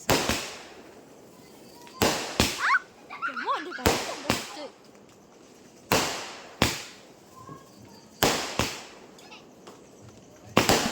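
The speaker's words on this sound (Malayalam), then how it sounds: "എന്തിനാ ആളുകള് പടക്കം പൊട്ടിച്ചേ?" Sharp firecracker bangs go off in scattered bursts during Vishu celebrations in Kerala, some in quick pairs, with distant crackling and faint voices in between.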